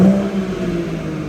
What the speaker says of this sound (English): if you rev the engine, you'll see that the power comes up there. It sounds really nice actually.